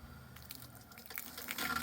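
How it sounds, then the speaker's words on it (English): Pink RV antifreeze trickles from a van's hot and cold water valves during winterization, a faint splashing flow that grows a little louder and brighter toward the end. "I've got pink RV antifreeze coming out of both my hot and cold water valves"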